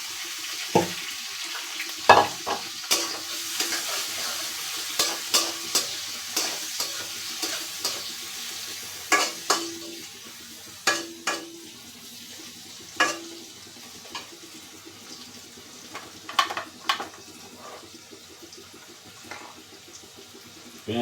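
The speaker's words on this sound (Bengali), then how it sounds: "এখন দিয়ে দিলাম পেঁয়াজ। এখানে আছে রসুন, কাঁচামরিচ একসাথে দিয়ে দিব।" Onion, garlic and green chili fry in a pan under a low, soft sizzle, broken by repeated sharp clinks and scrapes of a spatula against the pan at an irregular stirring rhythm.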